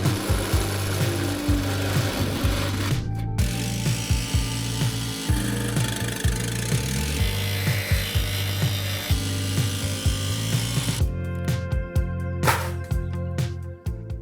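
A power tool cuts a roof vent hole through the metal roof of a VW Crafter van, a loud continuous grinding rasp with rhythmic pulses that stops briefly and then resumes.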